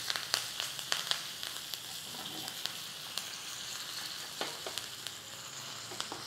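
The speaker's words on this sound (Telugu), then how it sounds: "ఎండుమిర్చి, ఎందుకంటే ఇవి ఇక్కడ నల్లగా అయిపోతాయని నేను చివరికి వేస్తున్నాను. వేయటము, మిర్చి వేగంగానే కరివేపాకు వేసేయండి." Dry red chillies and curry leaves sizzle and crackle in hot oil as a tempering for bottle gourd moong dal, a steady fry with sharp pops scattered throughout, close and moderately loud with no talking.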